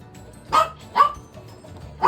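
A dog barks three times in short, separate bursts, close by and fairly loud, in a quiet kitchen while juice is being squeezed.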